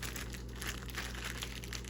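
Chicken for jerk chicken is massaged inside a plastic bag, producing soft, continuous crinkling and rustling, quiet and close, with no talk.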